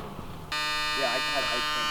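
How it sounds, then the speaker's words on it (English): A continuous electronic warning buzzer from an old car switches on abruptly and holds steady, loud and close, with a person talking over it. "Oh, it's got the satisfying buzzer and everything."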